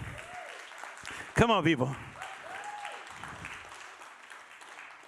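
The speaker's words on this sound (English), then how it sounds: "Clap your hands if you learned something today." A church or seminar audience claps at a speaker's prompt, a soft patter of hands running under a voice, with one sharp shout bursting out briefly.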